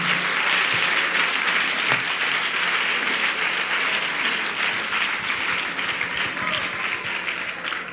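A church congregation applauds in a sustained, dense wash of clapping that fills the room for several seconds and fades slightly toward the end, with voices faintly mixed in.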